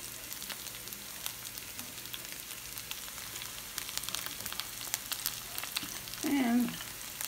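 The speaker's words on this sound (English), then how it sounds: "I'm going to chop it up and add it to my skillet." Chopped cilantro frying in a hot skillet gives a steady, even sizzle that carries through the whole stretch, with a brief louder burst near the end.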